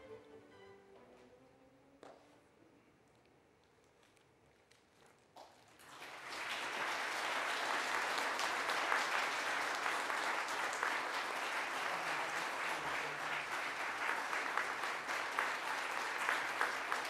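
Audience applause at the 2024 Samsung Ho-Am Prize award ceremony, beginning after a few quiet seconds of hall ambience and then rising into sustained, even clapping from a large seated crowd that continues without pause.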